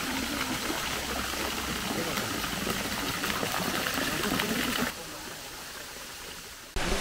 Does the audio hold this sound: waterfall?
yes